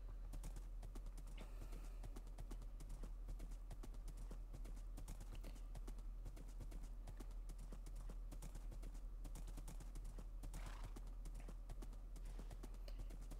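Horse hooves in the Minecraft video game clip-clop in a quick, continuous rhythm at low volume throughout. The steady trot sits under a constant low hum.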